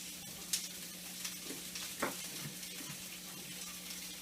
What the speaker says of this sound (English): And then you fry it until it's brown on the outside.